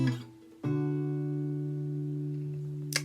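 A guitar rings out a plucked chord from a song intro, sustained and clear with a bright pick attack, after a brief decaying note and before a faint final pluck.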